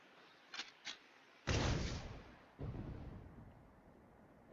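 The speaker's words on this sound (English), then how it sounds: "Fire one shot right at the midpoint between Shiva and the Royal Army" Tank cannon fire in the video game Sand Land: two short sharp pops, then a heavy booming blast with a long rumbling tail and a second rolling boom, loud with no talk.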